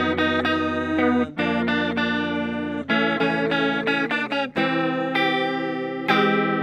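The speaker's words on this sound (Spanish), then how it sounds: "con el sonido de guitarra de bachata, con ese chorus que suena a bachata" Electric guitar chords with a shimmering bachata-style chorus effect, played in bright bursts separated by short pauses, close and loud.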